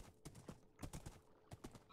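Horse hooves clip-clop in Minecraft, a few quick irregular hoofbeat clusters at moderate loudness with no talking over them.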